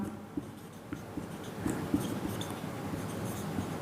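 Pen scratching steadily across paper as a maths equation is written out by hand, with soft irregular strokes and small taps close by, no voices.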